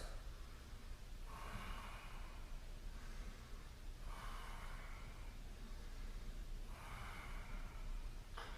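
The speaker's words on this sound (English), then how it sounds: "Hold it for 3 deep breaths." Slow, deep breaths during a standing balance exercise, several soft inhales and exhales at an even pace, faint and close with no talking.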